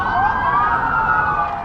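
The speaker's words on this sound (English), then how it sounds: "Sirens blared through the streets of Las Vegas" Police and emergency vehicle sirens wailing through Las Vegas streets, a loud, close rising-and-falling siren tone that dominates the moment without pause.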